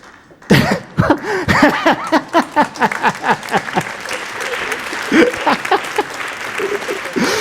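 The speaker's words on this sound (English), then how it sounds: "So Disney's getting the first round of applause of the day." Audience applause following a speaker on stage: claps start sharply, build into dense clapping and then taper to a softer, fading patter near the end.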